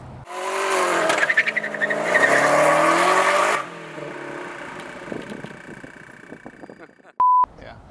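A Ford Mustang known as the Magstang revs and drives, its engine note rising and wavering loudly for a few seconds before dropping to a quieter idle with rattles, then a short electronic beep.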